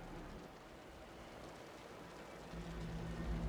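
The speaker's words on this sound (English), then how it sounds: "The rain's getting heavier." Steady rain falling in the video game Wuthering Waves, a soft continuous hiss that swells a little heavier toward the end, heard alone without talk.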